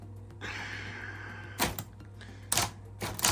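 A Smith Corona Citation Power Correct XT electro-mechanical typewriter, its motor humming steadily while separate sharp key strikes and mechanism clacks land in a few irregular bursts, close and loud.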